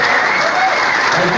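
A rock concert audience in Athens claps in a brief, dense burst of applause, loud and continuous, with a voice speaking over it.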